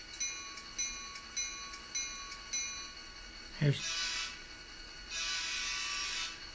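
A small Atlas N scale model locomotive bell rings in a steady rhythm of about six strikes, followed by a short burst of engine whirring and a hiss, fairly quiet.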